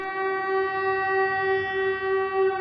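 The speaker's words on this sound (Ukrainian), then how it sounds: "Чергове лунає сигнал повітряної тривоги." An air raid alert siren sounding over Odesa in the evening, a loud sustained steady tone with strong harmonics holding unbroken without pause from start to finish.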